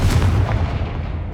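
A Confringo fire-blast spell from the Hogwarts Legacy video game goes off in a loud, heavy burst. A booming low rumble follows and decays over about a second.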